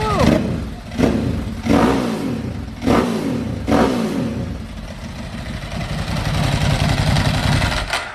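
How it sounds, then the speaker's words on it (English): A Ducati Panigale V2 motorcycle from 2021 with an SC Project exhaust starts, then gives several sharp, loud revs before settling into a rough, rumbling idle close by. "That might be the loudest exhaust I've ever heard."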